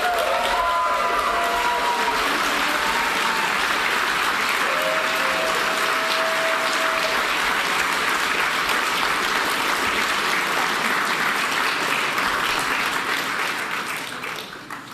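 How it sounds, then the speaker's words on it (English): A large crowd applauds steadily and loudly for several seconds, the clapping fading slightly at the end. "give a big round of applause to my bosses"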